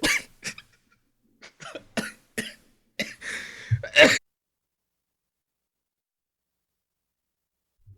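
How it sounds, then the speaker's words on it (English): Several sharp, close coughs come in quick bursts over the first four seconds, loud and dry, after which the rest is near-silent apart from a faint blip at the very end. "Sorry, I had to cough for a second, y'all."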